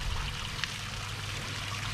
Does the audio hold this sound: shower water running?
yes